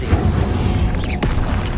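An Incendio fire spell cast in Hogwarts Legacy: a dense, roaring burst of magical fire with a sharp crack partway through, set against continuous loud combat noise.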